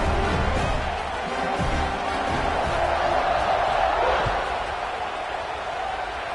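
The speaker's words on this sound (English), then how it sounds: "You think this crowd's going to get loud when their defense comes on the field?" A stadium crowd at a college football game in NCAA 26 roars in a continuous wash of cheering that swells slightly mid-clip, broad and distant-sounding.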